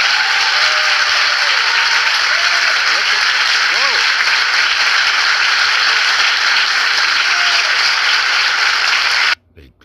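Loud, sustained crowd applause at a political event fills nearly the whole stretch, with a voice shouting over it, then cuts off abruptly at the end.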